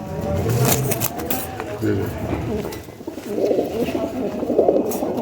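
Faqeer Gull pigeons cooing in a loft, low soft coos close by, with someone speaking over them and some background noise.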